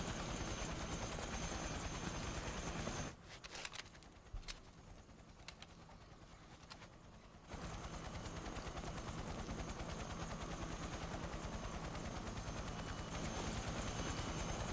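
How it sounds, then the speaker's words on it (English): Helicopter rotors thump steadily and loudly in the Metal Gear Solid video game. The rapid chopping drops to a quieter passage for a few seconds midway, then returns at full strength. "Like you can hear somebody over the phone underneath the helicopter rotors."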